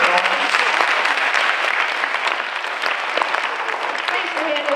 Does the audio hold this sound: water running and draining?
no